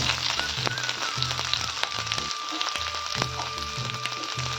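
Curry leaves and onion dropped into hot oil already tempered with cumin and mustard seeds give a loud, dense sizzle with crackling pops and spatter throughout, close up and continuous, with no talking.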